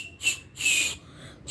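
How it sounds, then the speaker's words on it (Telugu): Whistle blown through a small conch shell: three short, shrill piping bursts, the middle one longest, close and clear with quiet gaps between. "ఇలా అయితే విజిల్ వేయచ్చమన్నమాట"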